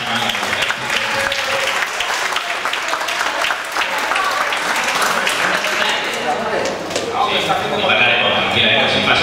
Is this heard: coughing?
no